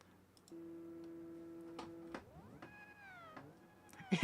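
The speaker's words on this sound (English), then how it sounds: "It literally makes cat noises." A car in the Automation car-building game gives off synthetic cat-like meows: a steady tonal drone, then rising and sliding whine calls with short clicks, fairly quiet and alone with no talk.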